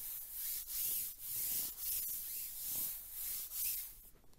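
A Purple mattress protector being rubbed by hand gives a soft, steady fabric rustle in repeated swishing strokes, about seven passes at an even rhythm, close up with no voices.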